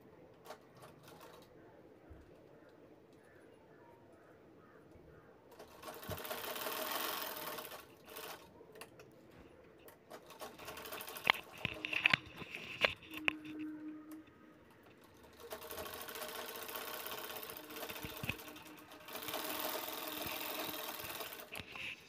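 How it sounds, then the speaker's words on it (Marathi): A sewing machine stitches the zipper side seam of a fabric sling bag, running in bursts of quick, steady mechanical whirring with quiet gaps and a few clicks between them. "झिप अगदी मधोमध ठेवून व्यवस्थित साईडनं शिलाई करून घ्यायची आहे"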